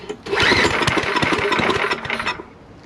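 A pull-start on a Simplicity snow blower with a poorly running carburetor brings a brief sputtering, knocking burst of the small engine that runs about two seconds, then dies away.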